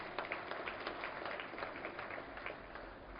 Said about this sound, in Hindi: जरा जोरदार तालियां